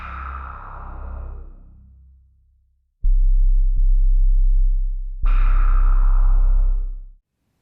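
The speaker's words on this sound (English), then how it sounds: "on layer B, is simply a 440 Hz sine wave sample, which is one of the utility waves" Omnisphere synth playing a 440 Hz sine wave sample, heard as steady pure tones that sustain and cut off, alone, after a fading earlier synth note.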